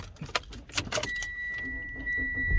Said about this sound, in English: So obviously being the manual, just the foot on the clutch to start that one.